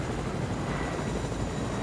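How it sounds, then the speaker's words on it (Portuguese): A helicopter in the Fortnite video game drones with a steady rotor and engine roar, continuous and fairly close, with no speech over it. "Aí está o helicóptero lá em baixo."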